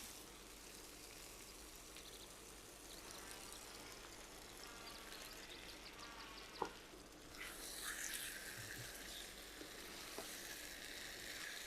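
Chicken pieces dropped into oily curry masala in a pan, a soft continuous sizzle with a sudden louder burst of frying partway through, fairly faint and close.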